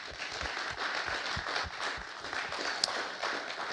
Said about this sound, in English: I would like to ask you all to join me in giving yourselves an entire Ministry of Education a round of applause